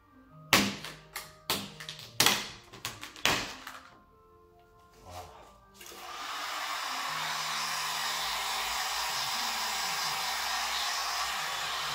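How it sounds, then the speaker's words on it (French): A heat gun warms vinyl wrap film on a Sprinter van, starting as a steady loud blowing hiss after several sharp taps and thumps at close range, with no talk. "Le décapeur thermique. Pour chauffer la partie du film qui n'est pas encore collée."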